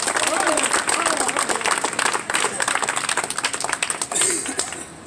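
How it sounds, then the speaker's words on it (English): Outdoor political rally crowd in Salem, Oregon claps and cheers, a busy spatter of hand claps with scattered shouts that gradually thins toward the end. "can we get a round of applause for Oregon State Police being here and doing their job?"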